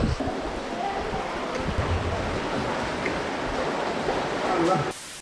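Floodwater surges through the town of Lama, a loud, steady broadband rushing close by that continues unbroken before dropping away abruptly at the end.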